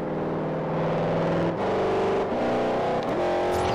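Koenigsegg supercar engine in the Forza Horizon racing game, revving loud and steady with a rich harmonic drone that shifts pitch through several rev ranges, no voices.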